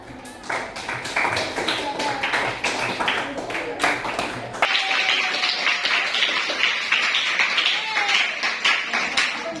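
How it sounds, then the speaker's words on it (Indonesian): A classroom of students claps for the winning quiz group, a dense patter of many hands at close range that swells partway through, with voices mixed in. "pemenangnya kelompok 2, berikan aplaus"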